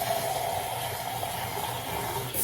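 Water running to rinse a Mueller double-wall stainless steel French press with mirror finish, a steady soft splashing rush from a tap, fairly faint and continuous.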